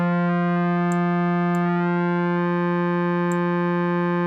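An OB-Xd synthesizer, modelled on the Oberheim OB-X, holds a steady, loud pulse-wave tone whose width has been reshaped, giving a buzzy, harmonically rich drone with faint clicks.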